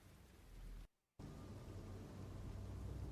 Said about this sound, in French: Comme je le disais, il pleut et ça redouble à ce niveau-là.